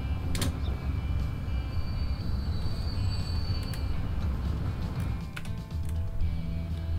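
A train from the Transport Fever 2 video game rolls along with a steady, loud rumble, and sharp metallic clicks and brief squeals cut in over the continuous noise with no talking.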